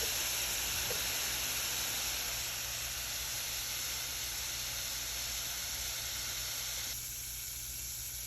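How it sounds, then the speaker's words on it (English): A pot of water with a carrot in it boils on a stove, giving a steady, even hiss and bubbling wash that holds close and constant throughout, with no voices. "here this is boiling, so I'm going to drop my carrot in"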